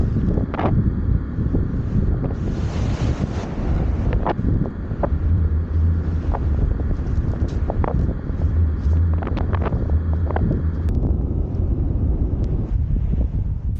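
Strong wind at the seashore at Shoreham during shore fishing, buffeting the microphone with a steady loud rumble and gusts, scattered knocks and rustles throughout.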